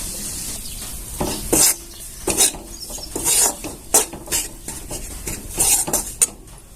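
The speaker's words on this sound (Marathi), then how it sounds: "चार चमचे असं इथं मैदा घेतलेला छान असं भाजून घ्यायचं आपल्याला" Flour roasting in hot ghee is stirred in a pan, with a spoon scraping and clinking against the metal in irregular bursts over a faint sizzle, close and alone.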